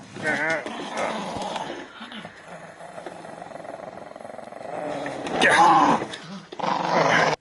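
A dog growls and snarls in bursts during rough play wrestling, close and loud, with low rumbling between sharper vocal outbursts.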